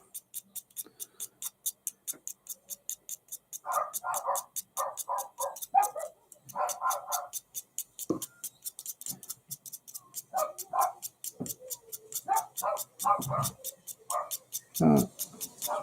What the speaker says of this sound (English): Every time they hear a car, they bark.